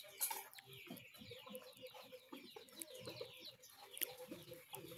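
Chickens cluck softly and continuously nearby on a rural province farm, with occasional sharper squawks and chirps rising above a busy outdoor background.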